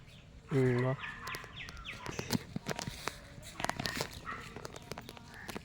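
At a Hindu temple, a turkey lets out one short, harmonic call near the start, followed by scattered clicks, footsteps and faint background chatter.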